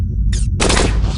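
Gunfire from the roguelike video game Cogmind: a short burst of loud, dense synthetic shots after a brief sharp blast, over a steady low game hum, with no voices.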